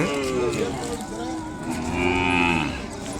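Ongole cattle low in long drawn-out moos, loud and close, one call after another with hardly a pause, at a cattle market.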